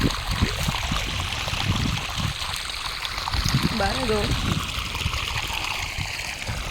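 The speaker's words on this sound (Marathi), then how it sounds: "हे बघ, पाईप इथंच जागीच पाणी पडते" Water pours steadily from a pipe in a farm field near a wheat crop, a continuous rushing splash running throughout while someone talks over it.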